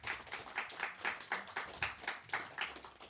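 A small open mic poetry audience claps in soft, steady rhythmic bursts, faint and distant with a touch of murmur.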